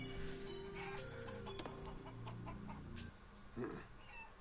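Chickens clucking in the video game Shenmue 3, several birds producing short bursts of clucks and squawks at close range, with a louder cluck near the end over a background of game ambience.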